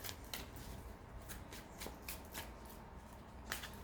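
A Rider-Waite tarot deck is shuffled close up, giving faint, soft riffling and flicking card sounds in quick repeated bursts with no talking.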